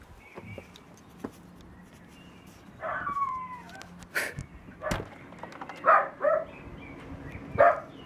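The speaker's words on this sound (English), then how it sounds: "Can you hear the dogs woofing?" A few dogs barking at a distance, short scattered woofs and yelps over quiet room tone.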